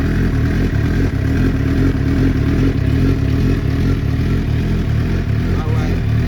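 A motorcycle idling while it warms up before a beginner riding lesson for the MSF course, a loud, close, steady engine rumble with faint clatter throughout.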